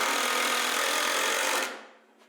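A power driver runs self-tapping screws into place in a barn woodshop, a short loud burst of buzzing motor and grinding that stops abruptly and trails off into quiet.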